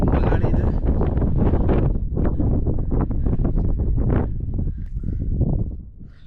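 Strong wind buffets the microphone on a hilltop about 3000 feet up, a loud, continuous roar with gusting surges that eases off near the end.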